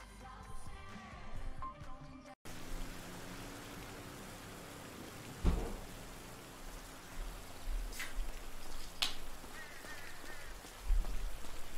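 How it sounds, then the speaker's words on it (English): Steady rain falls in the video game GTA 5, a dense, even hiss with occasional soft thumps and taps, continuing alone throughout. "Enjoy the rain, asshole."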